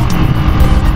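A Demak D7 125cc motorcycle engine drones steadily while riding, loud and close, with a rough low rumble mixed with wind noise.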